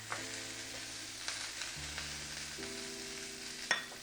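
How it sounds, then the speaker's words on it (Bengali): Oil sizzling in two small frying pans, a soft continuous crackle at close range over a steady tonal hum that steps in pitch, with a few light clicks and one sharper tap near the end. "আমার ছোট 2টা প্যানে হালকা একটু তেল দিয়ে নেই"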